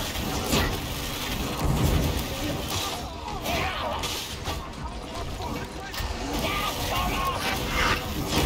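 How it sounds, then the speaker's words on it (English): Psyker lightning attacks in Darktide crackle and crash continuously amid chaotic combat noise, with a player voice talking over the din. "I can't miss the lightning, it might spread."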